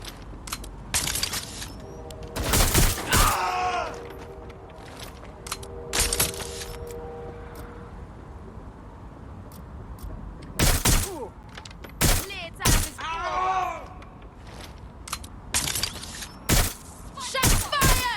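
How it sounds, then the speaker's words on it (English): Video game firefight in Watch Dogs: Legion, with repeated loud bursts of automatic gunfire and single shots in clusters across the scene, interspersed with shouting voices between volleys. "They won't stop shooting!"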